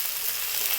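Egg fried rice with peas, salt and black spice sizzles steadily in a hot pan, a brief, bright, continuous fry heard up close with no talk.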